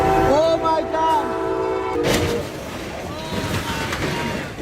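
A high-speed passenger train rushes past a railway crossing with a blaring horn blast, followed by a loud rumbling roar of the cars going by, with voices reacting over it.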